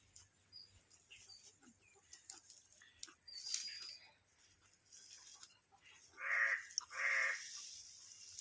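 Crow cawing on a farm where a heifer calf has just been born, faint and scattered at first, then two loud caws close by near the end, with no talk.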